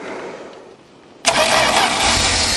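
A 1977 Dodge Tradesman van with a slant six engine cold-starting in freezing weather, a quiet lead-in followed by the engine abruptly catching and settling into a loud, steady running roar.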